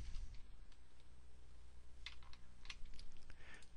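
Keys clatter on a wireless computer keyboard while Visual Basic code is typed: a loose run of quiet clicks with a few sharper, quick bursts of keystrokes near the end, close by and without speech.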